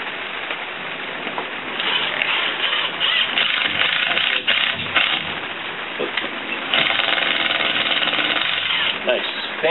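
A power drill bores a pilot hole for a screw in wood at a stilt cabin fort on a rainy day, a loud grinding whir that surges and eases repeatedly over steady rain.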